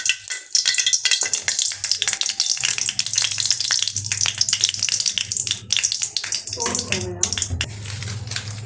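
Cinnamon and whole spices hit hot oil for a gravy, giving a steady, close sizzling and crackle that runs throughout, with stirring scrapes and brief louder bursts near the end.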